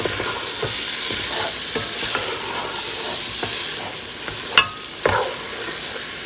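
Ground meat for lasagne sizzles steadily in a hot pan over medium-high heat, with scraping stirs breaking it up and two sharper utensil knocks near the end; no talking, close and fairly loud throughout.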